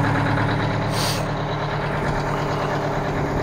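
Detroit diesel engine idling in an Aerodyne cabover truck that sat unused for 27 years, a loud, steady low rumble throughout, with a brief hiss of air around the one-second mark.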